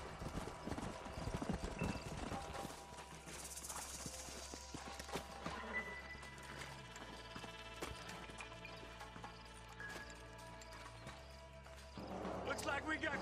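Horse hooves clip-clop across the ground in the Western game Red Dead Redemption, an irregular run of hoof knocks under voices, music and game ambience, with a horse whinnying briefly.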